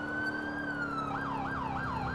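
An ambulance siren in the video game GTA IV with the LCPDFR police mod holds a steady tone, then turns into a fast, repeating wail. It sounds close and loud, with no talking.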